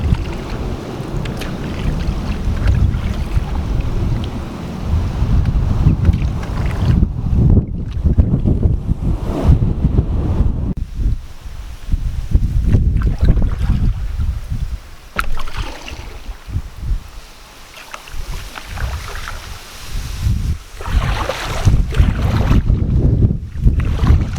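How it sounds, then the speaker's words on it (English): Strong gusty wind buffets the microphone while a canoe is paddled on the River Slea, a loud roaring rumble that swells and drops in waves, with brief quieter lulls and faint water sounds between gusts. "So that wind's just changed direction now. Coming straight at me"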